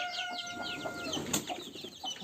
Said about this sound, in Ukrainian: Ще одна курка.